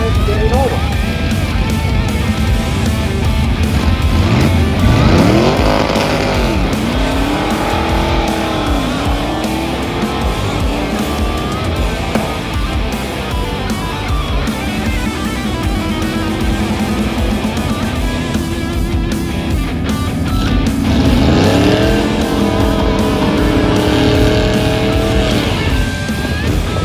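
Race cars roar around a dirt track, among them a 66 Dodge Charger and a 69, with loud engines rising and falling as they pass under steady announcer talk and crowd noise throughout.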